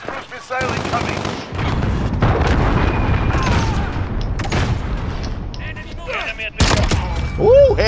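Gunshots in a video game, dense rapid bursts of loud close gunfire with booming reports and short gaps, mixed with excited talking.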